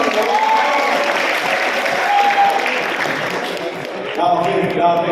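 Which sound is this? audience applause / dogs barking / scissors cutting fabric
audience applause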